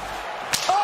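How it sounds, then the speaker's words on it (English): A female wrestler's long hair whips through the air in a single sharp, snapping crack, brief and close, followed by a faint thin tone. "Every time I hear that whip sound from her with her hair, it scares me because it just sounds so painful."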